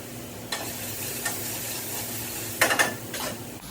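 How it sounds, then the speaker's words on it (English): Vegetables sizzle steadily in a frying pan while a utensil scrapes and clinks against the metal, with a few louder stirring knocks near the end and no talk. "Give my vegetables another stir."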